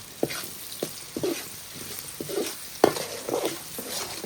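Green chillies, ginger and turmeric go into frying onion for a crab curry, giving a constant sizzle broken by repeated knocks and scrapes of a spoon stirring the pan.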